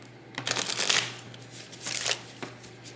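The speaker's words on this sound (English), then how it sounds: "I also try to shuffle on camera so you see that I did shuffle" Tarot cards riffled and shuffled close up in two quick bursts, crisp papery flutters over a faint steady electrical hum, no talking.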